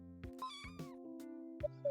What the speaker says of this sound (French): Et les chats, ils miaulent,